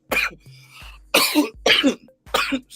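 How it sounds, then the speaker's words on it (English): Several sharp, close coughs in a row, separated by brief pauses, with a faint low hum between them. "I should have just let it play if I was gonna keep coughing"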